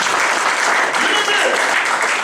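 A church congregation applauds the Lord in a loud, dense, continuous round of clapping that fills the room, with some voices mixed in beneath.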